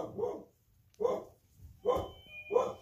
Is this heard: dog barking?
yes